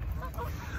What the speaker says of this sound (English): We got some noisy little geese out there on the lake.